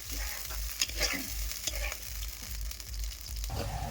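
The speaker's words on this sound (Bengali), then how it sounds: "এই পেঁয়াজ বাটাটা দিয়েছি, এটাকে সুন্দর করে নিয়ে ঝেড়ে নিয়ে সব" Onion paste sizzling in hot oil as it is stirred, with a steady frying hiss and repeated scraping strokes of a spatula against the pan.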